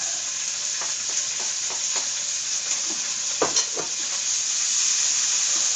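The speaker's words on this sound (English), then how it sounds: "So we're about to drop those anchovies in." Anchovies sizzling in a pan over medium heat, a steady bright frying hiss throughout with a few soft clinks and stirring taps mid-way.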